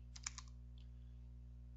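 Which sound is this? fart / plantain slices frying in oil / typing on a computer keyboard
typing on a computer keyboard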